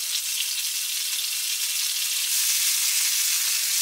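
Garlic butter melts and sizzles in a pan, a steady, close, even hiss that grows slightly louder partway through, with no talking.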